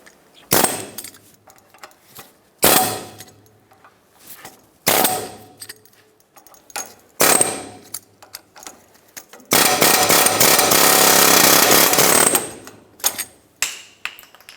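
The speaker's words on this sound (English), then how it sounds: "with the air chisel, we're going to crush this outer sleeve in and pop it out" Air chisel hammering the outer sleeve of a Ford F-450 Super Duty front track bar bushing: four loud, sharp rattling bursts, a sustained three-second burst, then a few short final hits, close up.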